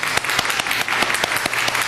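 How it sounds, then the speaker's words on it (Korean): A congregation in a church applauds together, a dense, steady burst of many hands clapping up close, with loud individual claps standing out over the crowd. "한번 오늘 기립박수 한번 해주세요"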